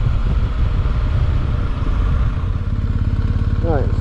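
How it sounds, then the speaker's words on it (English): A BMW 1250GS motorcycle idling in third gear at about 1200 RPM, a steady, close, low engine rumble that stays loud throughout, with a voice briefly heard near the end. "it's idling in third gear at 1200 RPM."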